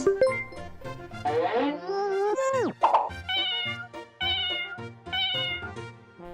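A cat meows several times in a row, clear and close, with short, varied, drawn-out cries and brief pauses between them.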